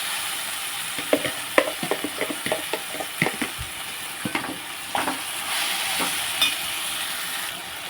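Chopped onion with tomato paste frying in a pan, a steady sizzle under repeated scraping and stirring strokes of a spoon, close and fairly loud, with no voices.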